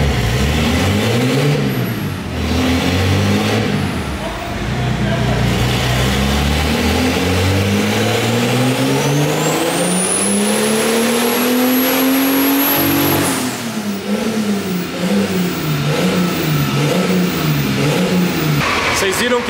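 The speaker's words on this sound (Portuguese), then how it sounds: "vamos ver o carro puxando" A turbocharged Chevrolet Omega 4.1 engine revs hard and climbs in pitch as it accelerates, with a high turbo whine rising over it, then drops off and revs again.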